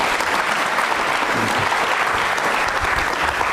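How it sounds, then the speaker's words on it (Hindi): An audience in a devotional TV program studio gives loud, sustained applause, a thick even wash of many hands clapping from start to finish with no talk heard. "जोरदार तालियां बजाइए, जोरदार।"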